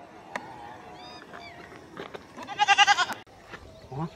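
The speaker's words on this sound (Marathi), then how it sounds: "हा, बकऱ्याचा आवाज." A goat bleats in a rural Marathi short film scene: a short series of wavering, nasal bleats near the end, over faint background sounds and a few quieter earlier calls.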